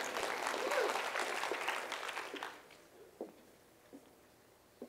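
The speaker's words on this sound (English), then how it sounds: "Go ahead, clap it up." Audience members at a summer leadership conference keynote clap together, a dense round of applause that fades after about two seconds into quiet, leaving only a few scattered late claps.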